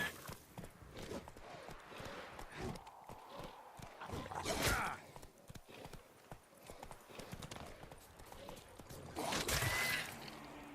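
Hooves of the horse Roach clip-clopping under a rider in The Witcher video game, an uneven run of close hoofbeats with louder bursts and a faint whinny.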